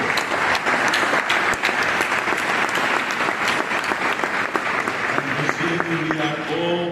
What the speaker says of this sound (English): please, a big round of applause for Virgílio